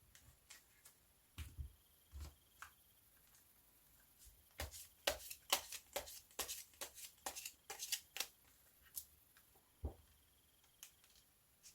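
Tarot cards being shuffled and drawn at a reading table: scattered soft card flicks and slides, then a dense burst of quick riffling snaps in the middle, with a few isolated taps near the end and no speech.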